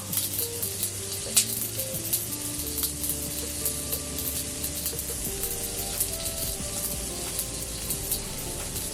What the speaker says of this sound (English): So we've got our scrambled eggs on.